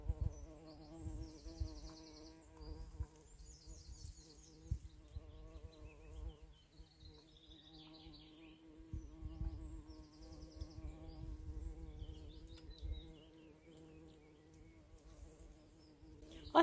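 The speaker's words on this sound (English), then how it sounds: "I can hear that buzzing again. Oh yeah, there's a lot of bumblebees" Bumblebees buzz steadily and close by in an eco garden, a low droning hum that swells and fades as several insects move around for the whole stretch, with no talking.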